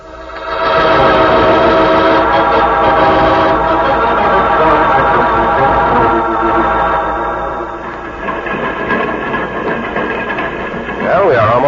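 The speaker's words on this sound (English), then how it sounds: "Train is slowing down so that we can jump off." A steam train slows as it nears a stop, its engine and rolling clatter loud and continuous with a sustained whistle-like tone and voices over it, the rumble easing toward the end.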